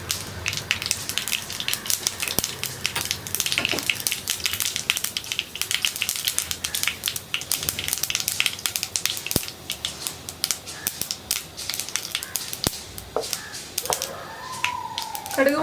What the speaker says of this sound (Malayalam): കടുക് ഒന്ന് പൊട്ടി വരട്ടെ.